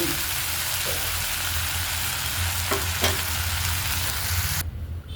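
A steady, loud sizzle of onion frying in hot oil in a pan, with a few soft clinks of a utensil stirring.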